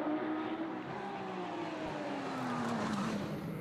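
A Porsche GT3 Cup race car at Spa, racing with DVB Racing, holds a loud, continuous engine note whose pitch glides slowly downward as it passes, with no voices over it.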